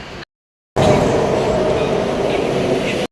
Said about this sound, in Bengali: আমরা এখন আছি কবি সুভাষ মেট্রো স্টেশনে জাস্ট কিছুক্ষণের জন্য একটা মেট্রো মিস হয়ে গেল